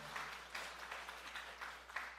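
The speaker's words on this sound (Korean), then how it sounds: "여러분의 마음이 이미 감동이 되어서 박수까지 나오는군요" A congregation applauds during a church revival service, a soft steady patter of many hands clapping at a quiet level with a low background hum.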